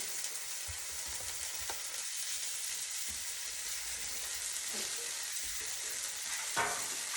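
Eggs fry in a tiny bit of olive oil, giving a soft, steady crackling sizzle with a few small pops and taps, faint and fairly close, no voices.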